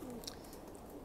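Soft low cooing from racing pigeons in heavy moult, faint and brief against a steady background hum, with a couple of quiet higher chirps.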